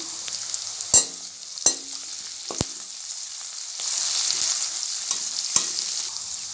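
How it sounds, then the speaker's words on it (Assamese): Cumin, coriander seeds and ginger-garlic paste sizzle steadily in a hot pan while a utensil scrapes and taps against it a few times, the frying growing louder toward the end. "আদা নহৰু পেষ্ট দি অলপ লৰাই ল'ব লাগিব"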